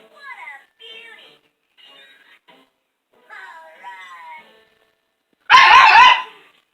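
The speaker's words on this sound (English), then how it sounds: "She barks at the cartoon." A pet dog barking at a cartoon playing on a television indoors, a few short whines and yips followed by one loud, close bark near the end.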